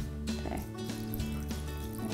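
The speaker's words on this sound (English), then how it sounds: "we're also going to add a little bit more of our water again" Water runs from a kitchen tap into a vegan chocolate mousse mixture of sweet potato, a steady close pouring sound with faint clinks, no talking.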